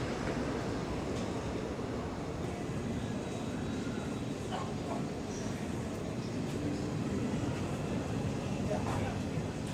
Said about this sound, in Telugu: ప్లాట్ఫామ్ నెంబర్ టూలోకి అయితే ఈ ట్రైన్ అయితే వచ్చింది